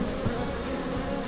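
Honey bees from a swarm buzz in a dense, steady drone close up, the humming of many wings blending together with no voices.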